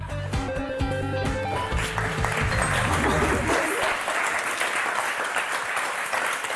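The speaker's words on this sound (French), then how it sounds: "On applaudit et vraiment très fort Daniel, Jean-Michel, Lucas et Alban." Studio audience applause on the French game show Motus, a loud sustained clapping that swells after a closing musical flourish and fills the room to the end.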